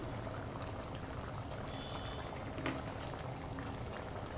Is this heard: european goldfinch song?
no